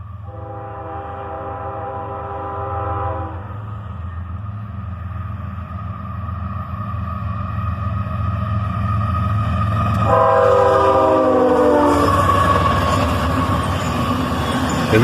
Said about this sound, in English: this guy gives us a nice horn salute as well, as a single ES-44ACH leads this southbound intermodal train